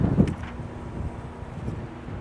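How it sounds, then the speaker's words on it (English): Wind blowing outdoors beside a 2020 Winnebago Vita 24F motorhome buffets the microphone with low, rumbling gusts, strongest at the start and then steady. "It's pretty windy out"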